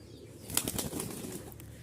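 A female pigeon with clipped wings flaps in a burst of fluttering wingbeats, close and fairly loud, a rapid flurry of soft flaps over a low background hum.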